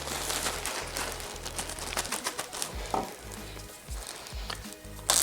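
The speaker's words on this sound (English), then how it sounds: "grab 3 eggs, open up the bag, stick it in, shut it, and just rub the egg around" An egg rubbed and shaken inside a plastic bag of egg dye gives close, crinkly, sloshing rustles in uneven bursts, with a few louder knocks and crackles.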